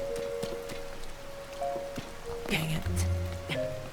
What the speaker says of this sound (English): And it's raining, of all things.